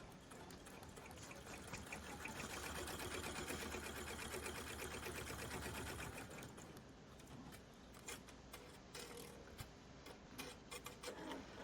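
An embroidery machine stitches a tack-down line on felt, a dense rapid mechanical rattling and ticking that runs steadily throughout, fairly close, with the pace loosening slightly toward the end.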